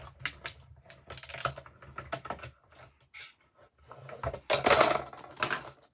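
A tiny paper cutter trims card in short bursts of dry, scratchy clicking and rasping, each burst separated by brief pauses, close and fairly quiet.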